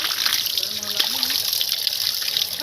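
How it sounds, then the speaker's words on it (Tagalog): Water flows and trickles steadily at a spring on a farm, a constant bright splashing that fills the background, with a brief faint voice underneath. "Ay, ito tubig."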